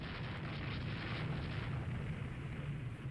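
Naval gunfire in the warship strategy game Rule The Waves 3, heard as a dense, continuous rumble of distant booming shots blending into one steady roar, with no talk over it.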